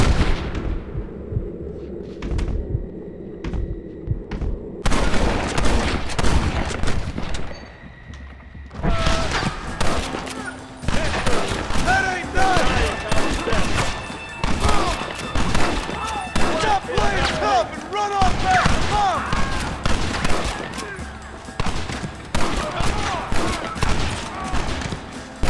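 Heavy cover fire in Red Dead Redemption, with rifle shots and volleys popping in dense bursts near and far, broken by a brief lull, while shouted voices cut in over the battle.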